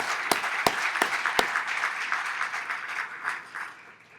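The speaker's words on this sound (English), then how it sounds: "One more round of applause for all the work they're doing" Crowd applause at a nonprofit gala dinner for Edu-Futuro, a dense wash of clapping from a roomful of people with a few sharp nearby claps early on, sustained for about four seconds before gradually tapering off.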